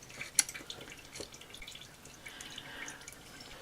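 Old oil drips out of a Juki DU-1181N industrial sewing machine during draining, one sharp distinct drip followed by faint scattered small drips and trickling under a quiet background.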